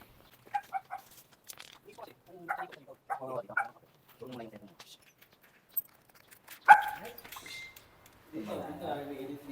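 A Pomeranian dog lets out short, sharp barks and yips in scattered bursts at a residential house, while people talk nearby between the barks.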